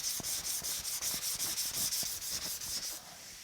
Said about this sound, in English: We just keep sanding like we got a purpose here